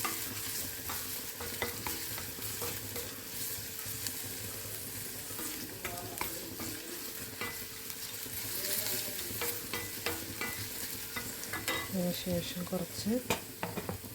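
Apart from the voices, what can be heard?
stirring rock salt into vegetable biriyani in a pan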